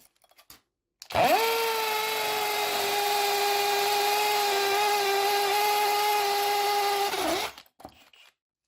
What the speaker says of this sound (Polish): spróbujemy sobie wiercenia z udarem